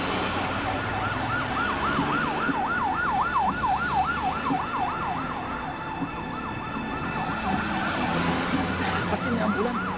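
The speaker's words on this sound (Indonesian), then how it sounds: "Pasti ini ambulans." An ambulance siren wails loudly and continuously in a steady up-and-down rhythm, sounding close over road traffic noise, with no talking.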